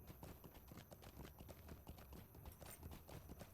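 Rescued horses' hooves clop in the LOTRO video game, a quick, busy run of overlapping hoofbeats at a steady pace, fairly close and soft in level, with no talking.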